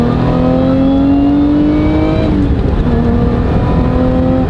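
A loud British car engine hums steadily with a high, rising supercharger whine layered over it, dipping briefly midway before climbing again.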